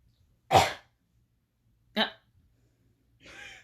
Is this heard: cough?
yes